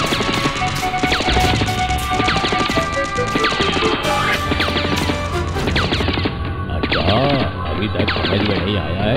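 Rapid bursts of gunfire crackle through a loud, chaotic Hindi cartoon action scene, with crashes and music layered throughout.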